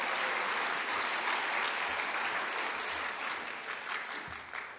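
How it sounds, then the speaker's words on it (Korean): A church congregation at a Sunday service applauds steadily to encourage the evangelist, a dense, even wash of many hands clapping that holds for several seconds before thinning slightly toward the end. "오늘 동역하실 우리 이연아 전도사님을 격려의 박수를 한번 부탁하겠습니다"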